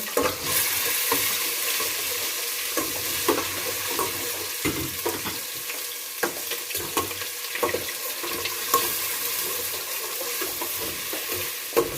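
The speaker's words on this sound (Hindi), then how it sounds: "ये लहसुन अदरक डालने लगा हूँ ताकि थोड़ा सा भून जाए।" Garlic and ginger fry in olive oil in a pan for a pasta sauce: a constant close sizzle runs throughout, broken by frequent clicks and scrapes of a utensil stirring against the pan.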